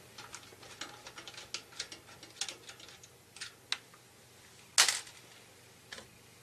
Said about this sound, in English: remove the valve core.